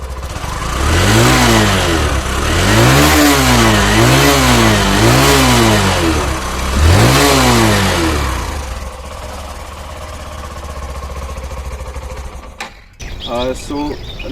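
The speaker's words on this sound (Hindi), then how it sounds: "सो एक बार मैं गाड़ी स्टार्ट करता हूँ।" A Hero Passion Pro motorcycle engine fires up and revs repeatedly in rising and falling bursts, loud and close, then settles to a rough idle before cutting off.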